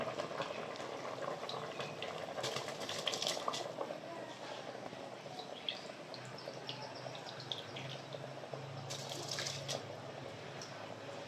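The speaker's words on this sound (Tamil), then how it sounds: "நல்லா சூப்பராக கொதிச்சுட்ருக்கு மசாலாவோட சேர்ந்து கொதிக்க" A thick chicken biryani masala sauce bubbles and boils up close, a continuous gurgling simmer with popping bursts, heard alone for the whole stretch.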